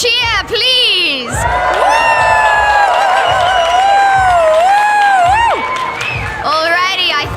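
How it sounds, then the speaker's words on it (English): A large indoor crowd at a Cape Town event roars and whoops loudly for several seconds, with children shouting and high-pitched cheers rising over the din, briefly framed by a voice before and after. "Can I get a huge big cheer, please?"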